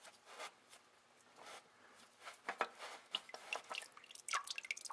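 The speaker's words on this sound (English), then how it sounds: "some oil will come out of there even though we've already drained the oil pan" Leftover engine oil dripping during an oil change on a 2001 Pontiac Sunfire after the pan was drained, faint scattered drips that grow quicker and more frequent toward the end.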